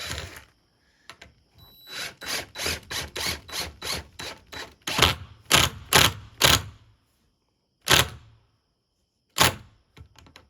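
A deck screw is driven into a porch post with a power driver, a steady series of loud whirring pulses in quick succession, then slower separate bursts with gaps and a final short spin.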